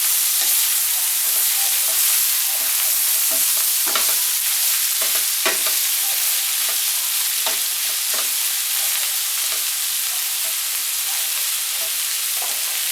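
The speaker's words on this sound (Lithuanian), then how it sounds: "Kepam dabar kelias minutės papriką." Chopped paprika frying in a pan, a continuous loud sizzle with intermittent scrapes and clicks from stirring, steady throughout with no voices.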